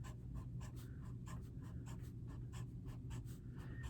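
Brush pens draw on paper in quick, close, soft scratchy strokes that repeat in a steady rhythm, faint and alone.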